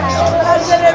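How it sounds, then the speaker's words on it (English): Busy crowd hubbub on a packed beach walkway in Legian, Bali, a steady close wash of overlapping voices and chatter, with no single speaker standing out. "Just walk through the middle of all of this crowd now. See how busy it is."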